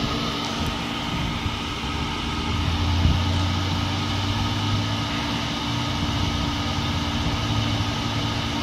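A Carrier packaged rooftop unit's gas burner makes its second ignition attempt: a steady, close mechanical roar with a low hum runs throughout, swelling slightly midway, with no voices.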